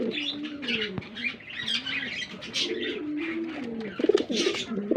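Pigeons kept by a breeder coo close by in low, repeated rolling calls, with soft chirps and light rustling mixed in.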